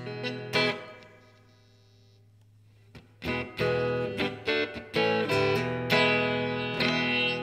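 An electric guitar rings out through a Peavey Audition 110 amp, a held chord decaying into a reverb tail, then a run of strummed chords with lingering ambience.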